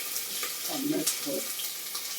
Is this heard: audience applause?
no